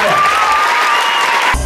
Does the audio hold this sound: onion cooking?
no